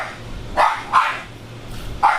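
A dog barks four separate times at a moderate distance, short sharp barks spaced irregularly over a low steady hum from a performance car shop.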